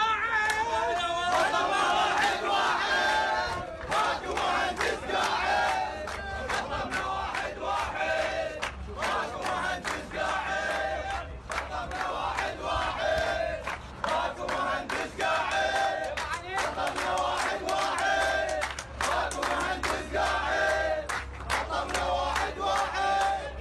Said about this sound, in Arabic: وردد المهندسون هتافات تطالب بالتعيينات وتنتقد التسويف والمماطلة لمطالبهم